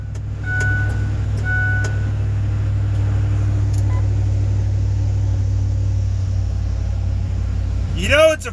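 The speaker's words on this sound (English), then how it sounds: "You know it's a Ford when it fired up that quick." A 2005 Ford F150 with the 5.4 engine, running on old gas after a junkyard wiring harness swap, idles with a steady low rumble close by, with a few faint beeps early and a brief voice near the end.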